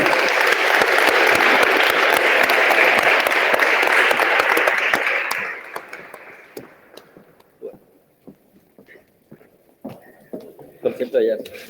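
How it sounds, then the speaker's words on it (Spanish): Audience applause for the speakers at a legal conference, dense and loud for about five seconds, then dying to scattered claps and quiet voices. "pido aplausos para ellos"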